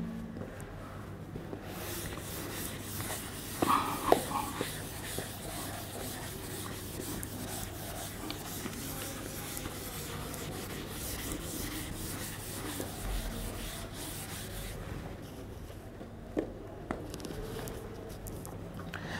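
During a machine design lecture, a board is wiped clean with long, steady rubbing strokes, a soft continuous scrubbing with a few light knocks, close and with no talk over it.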